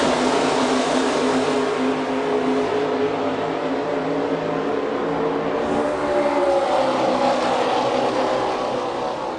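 NASCAR race cars take the green flag for the Coke Zero 400 at Daytona, a dense wall of engine roar rising as the pack accelerates, loud and continuous, with pitch sweeps as cars pass close by.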